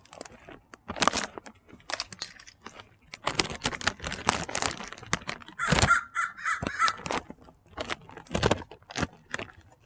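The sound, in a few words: crow cawing while picking up nuts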